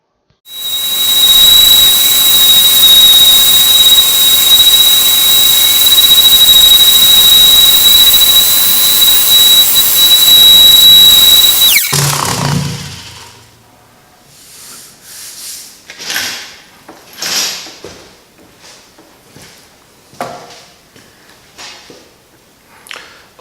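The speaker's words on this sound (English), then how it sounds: "the random orbit sander removed bulk of the rust" A random orbit sander with coarse 60-grit paper grinds rust off a cast iron tablesaw top, a loud steady whine for about twelve seconds before spinning down, followed by quieter scattered handling clatter.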